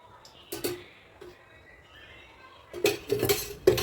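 A pan clatters and clinks on a kitchen stove while pomfret fry is being cooked: a couple of sharp metallic knocks, a quiet pause, then a quick cluster of clanks and scrapes near the end.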